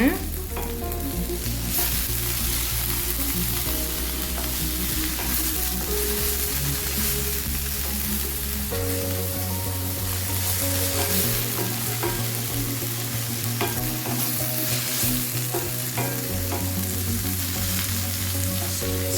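Ground cumin, fennel, pepper and ginger-garlic paste sauté in a pan for a squid fry, giving a loud, steady frying sizzle with scraping stirs throughout and no speech.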